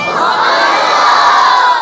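A large crowd roars "Subhan Allah" in unison, a loud, sustained shout of many voices rising together and holding steady for a couple of seconds.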